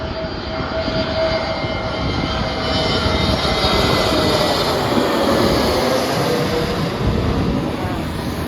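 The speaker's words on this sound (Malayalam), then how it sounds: "അത് ഏത് ഫ്ലൈറ്റാണ് പോകുന്നത്, അത്ര അടുത്തതാണ് പോകുന്നത്." A low-flying airplane passes close overhead on its landing approach in Bahrain, a loud continuous engine roar swelling and holding throughout with no talk.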